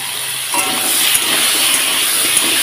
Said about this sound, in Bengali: আলুটাকে একটু ভালোভাবে একসঙ্গে আরও ভালোভাবে ভেজে নিই